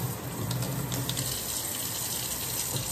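A steady, hissing rush of water spraying out continuously at close range, even and unbroken throughout, with no voices.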